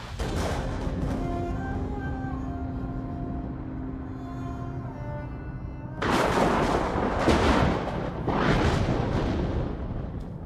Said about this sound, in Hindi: मार दी सारी गोलियां उसकी छाती में